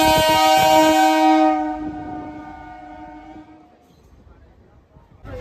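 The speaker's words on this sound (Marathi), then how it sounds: "आता आलेली आहे आपली रेल्वे येते" A train pulls into a station with a loud, sustained horn blast at the start that fades, followed by quieter rolling rumble while people talk nearby.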